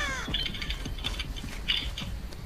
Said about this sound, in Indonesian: Iya, ini naro trap ketahuan jadi ya.